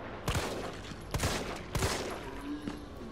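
Rapid gunfire bursts from the video game Resident Evil 3, three loud sharp shot clusters about a second apart over a dense, noisy game soundtrack.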